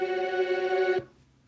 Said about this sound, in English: This is strings, tremolo strings.